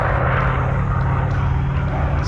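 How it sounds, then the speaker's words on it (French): A Skyraider with a double-row, eighteen-cylinder radial engine of nearly 3000 horsepower flies past at an airshow, a loud, steady, deep engine drone throughout. "On parlait de cet imposant moteur en double étoile, 2 fois 9 cylindres pour une puissance qui va avoisiner les 3000 chevaux."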